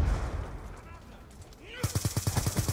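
Rapid automatic gunfire from a Black Ops 2 multiplayer match, a close, evenly spaced burst of about ten loud shots following a stretch of quieter game noise and background chatter.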